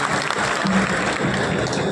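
Applause from an audience at a Jan Suraaj constitution-drafting gathering in Bihar, a dense steady clapping filling the whole stretch at moderate loudness with no talk over it.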